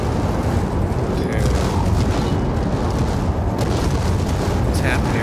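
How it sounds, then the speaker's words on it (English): Explosions in the video game Dying Light 2: a dense, continuous roar of booming blasts and rumbling detonations fills the whole stretch at high loudness, with occasional sharper bursts layered on top. "What's happening? Everything's exploding."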